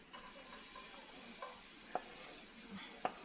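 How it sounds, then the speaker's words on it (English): Garlic frying in olive oil in a pan, a quiet steady sizzle with a couple of sharp utensil taps against the pan, close and without speech. "We put the olive oil in here, and we're going to put the garlic first"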